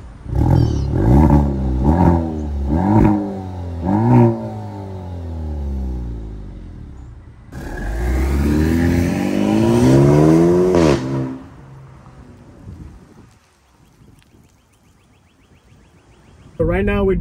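A car in sport mode driven with manual paddle shifting, its engine revving loudly through several rising gear pulls with sharp shift breaks, then a long sustained acceleration before easing off to quiet, and a final rev at the end.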